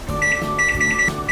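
A microwave oven set to 600 watts runs with a steady hum, carrying a few faint tonal beeps or whines over its drone; no one speaks.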